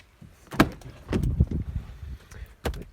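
A 2019 Ford F-150 pickup is unlocked at close range, giving a few sharp clunks and clicks spread over a couple of seconds with a light jangle between them.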